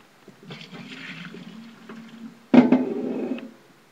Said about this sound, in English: So, pour some water off top of pot.